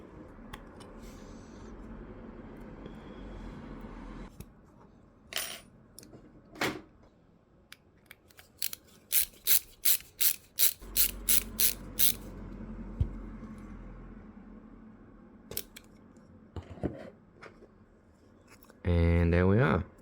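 Small M3 x 8 mm screws are driven into a 3D printer tool-head, giving a run of short, sharp clicking and ratcheting bursts around the middle, then scattered handling knocks and a brief louder scrape at the end.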